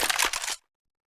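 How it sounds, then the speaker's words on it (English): A flashbang grenade goes off in Counter-Strike during an ELEAGUE Major match between OpTic Gaming and Virtus.Pro, a loud bright burst lasting about half a second and then cutting off to silence. "I'm throwing a flashbang."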